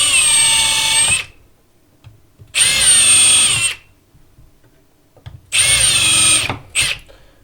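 A power drill drives screws into pre-drilled holes in three loud, close bursts of whirring about a second each, separated by quiet pauses, with a brief final blip at the end.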